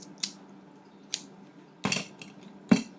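A popsicle stick is snipped with scissors or cutters, giving four short sharp clicks spaced unevenly, close and crisp against a quiet background.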